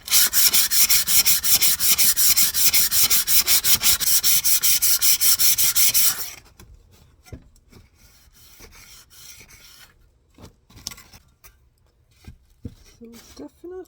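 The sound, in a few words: hand sanding a rusty old shovel with finer sandpaper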